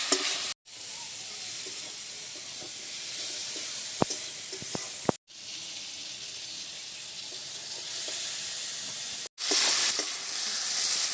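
Tomato and turmeric masala sizzles steadily in a pan while a utensil stirs it, with occasional clinks and scrapes, broken by two short cuts to silence.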